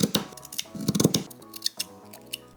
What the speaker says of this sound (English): I'm almost scared to cut the pieces out of it.